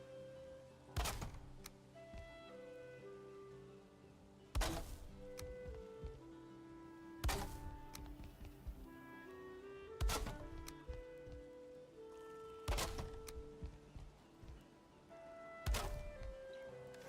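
Six heavy, evenly spaced wooden thunks as an axe strikes a catapult in Valheim, each hit close and sharp with a short ringing decay over quiet background music.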